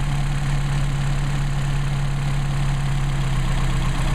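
A Mercedes 190SL engine idling on Solex carburetors, a steady, even rumble with a constant low hum, close and loud with no talking.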